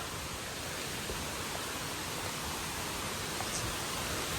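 Strong river current on Papaya River below Tarak Ridge, a steady broadband rush of flowing water that holds even and loud throughout, with no talk over it.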